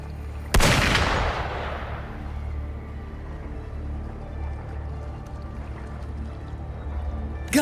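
A sharp, loud gunshot with a long reverberant tail in a video game, followed by a quiet ambient rumble and a second abrupt burst right at the end.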